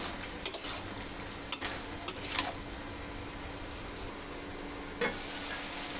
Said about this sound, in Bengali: এই যে আমি টমেটো দিয়ে এবার টমেটোটা ভালো করে করে নেব, কষাই নেব।